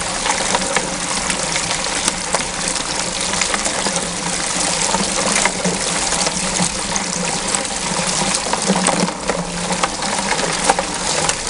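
Steady, loud rush of water driven by an 1,100-gallon pump through a Gold Cube bucket trommel, a continuous gushing flow with a faint engine hum underneath and no breaks.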